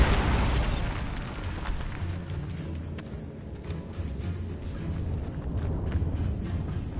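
A booming blast from the Bombarda spell in the video game Hogwarts Legacy, a loud low burst at the start followed by rumbling debris and several sharp crackles fading over the next seconds, with no talk.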